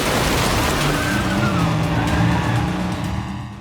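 A car roars through a chase in the game 007 First Light, engine loud and close with tires squealing and skidding, the sound fading slightly at the end.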